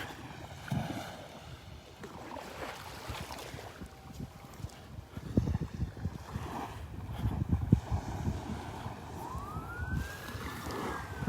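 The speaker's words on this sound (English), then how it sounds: "Oh, siren's nice." On Vanderbilt Beach in the morning, a distant emergency siren wails faintly over steady outdoor noise and light wind, rising and falling in pitch without ever becoming loud.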